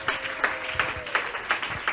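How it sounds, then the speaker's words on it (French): A church congregation applauding in praise, a steady, moderately loud wash of clapping with a rhythmic pulse of roughly evenly spaced beats. "Acclamons Jésus le roi des rois."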